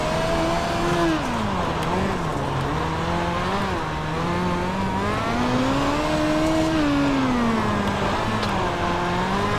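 A midget race car engine in iRacing at the Chili Bowl dirt track drones loudly and continuously, its pitch rising and falling as the throttle is worked through the corners, with no talk over it.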